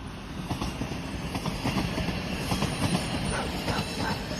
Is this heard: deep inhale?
no